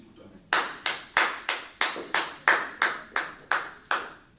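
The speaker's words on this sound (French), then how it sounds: "On acclame Jésus pour toi-même." A church congregation claps in unison to acclaim Jesus, about a dozen sharp, evenly spaced claps in a steady rhythm, loud and close with no talk over them.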